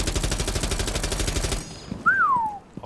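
Automatic gunfire with heavy recoil in a video game, a rapid, loud, evenly spaced burst of shots for about a second and a half, then a sudden stop, followed by a brief rising-and-falling whistle-like tone.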